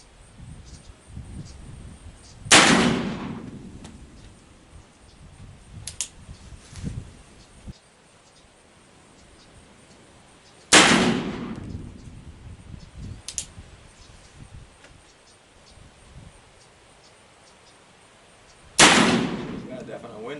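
Sharp, loud reports from a Pietta 1858 Remington New Model Army revolver fired outdoors in wind, three heavy shots spaced roughly eight seconds apart, each with a short ringing decay, plus a couple of fainter clicks between, with no talking.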